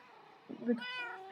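Cat in the Minecraft video game giving a short rising meow, close and clear, with a person talking just before it.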